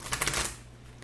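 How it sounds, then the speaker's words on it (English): A brief riffle of tarot cards being shuffled, a quick flurry of papery flicks that stops abruptly, followed by near silence. "One more good shuffle"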